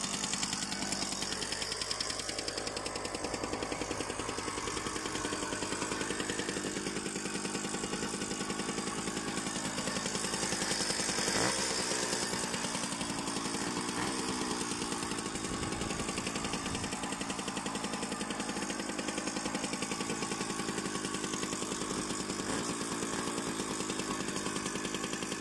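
A Jawa 50 Pionýr moped fitted with a minibike carburetor idles outdoors, its small two-stroke engine buzzing in a continuous, slightly uneven rattle at close range throughout.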